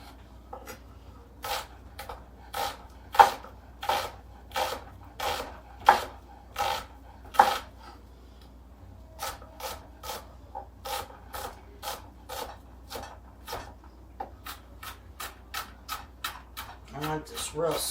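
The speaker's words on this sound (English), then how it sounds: "Same with the onion. I'm going to cut it up rather small." A whole onion cut into small pieces with a knife on a board, a long run of crisp, evenly spaced chopping taps that briefly pause and then quicken near the end.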